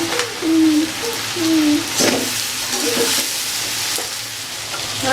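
Fried puti fish going into a hot pan with potato, aubergine and spices, a loud steady sizzle with a few scraping stirs and clinks, close and alone without talk.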